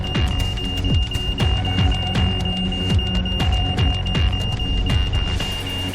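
A building alarm sounds continuously with a steady high electronic tone and regular pulsing beats, loud and filling the space throughout.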